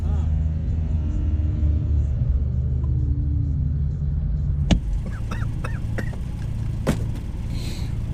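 A car engine idles with a lumpy, uneven lope, a steady low rumble heard from inside the cabin, with a couple of brief clicks and squeaky sounds over it.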